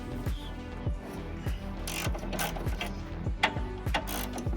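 A manual ratchet wrench working a bolt during an install, repeated quick pawl clicks in a steady back-and-forth rhythm, close and clear, with no talking.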